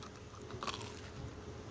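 Someone bites into a pandesal bread roll spread with cheese: a single soft, quiet bite near the middle of a short, hushed moment, followed by faint chewing.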